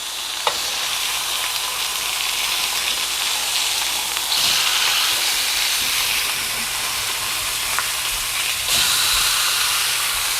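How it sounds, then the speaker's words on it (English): Salmon sears in a hot pan with a loud, close, steady sizzle, a few sharper bursts as the fillet is shifted and flipped, with no one talking. "we're going to go ahead and flip our salmon"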